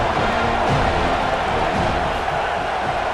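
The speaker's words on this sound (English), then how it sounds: "decibels rising as the crowd gets behind this defense on third down" Stadium crowd in the video game EA Sports College Football, a dense, steady roar of cheering fans during a third-down defensive stand, loud and unbroken throughout.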